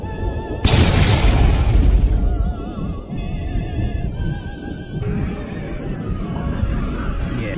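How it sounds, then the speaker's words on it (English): A sudden loud boom from an anime battle bursts out and slowly rumbles away, followed by a lingering roar with a warbling tone over it. "a great explosion would illuminate everything"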